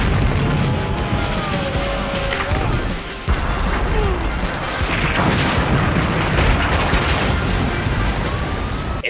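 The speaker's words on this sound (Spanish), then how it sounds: "muchas explosiones" Explosions from Jackie Chan action movies: dense, loud booms and crashes, one over another, with a blast near the middle, under a constant roar of action-film sound.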